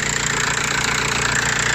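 A car engine idles steadily after an alternator repair, a loud, close and even hum with a fast low pulse and no other sounds.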